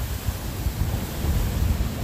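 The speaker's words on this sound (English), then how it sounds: "the water is coming up through there" Sea water surges up through a hole at the edge of a cliff at Inch Marlow, a steady broadband wash and rumble with wind buffeting the microphone.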